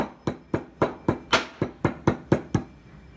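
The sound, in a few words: dry ginger being broken into pieces inside folded cloth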